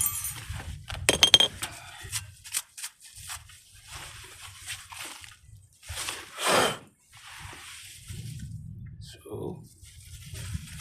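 A Nissan Versa front brake pad clinks and scrapes lightly against metal as it is seated on the caliper, sporadic close-up taps and clatters with quiet talk in between.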